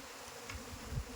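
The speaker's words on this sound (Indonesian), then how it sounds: "Lebah akan mulai berterbangan" A brief moment of Apis cerana honeybees from an aggressive colony taking flight during a hive transfer, a soft continuous buzz with a light thump near the end.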